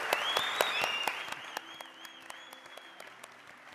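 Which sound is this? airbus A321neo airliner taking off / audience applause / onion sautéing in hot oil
audience applause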